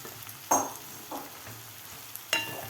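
Chopped ridge gourd being stirred into masala in a pan, a few distinct spoon scrapes against a soft sizzle, with quiet gaps between strokes.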